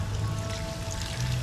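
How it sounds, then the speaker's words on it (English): Hot water pours into a pot of lamb curry in a backyard kitchen, a brief, steady close-up splash over a low hum. "I'm going to put in a little bit of hot water here"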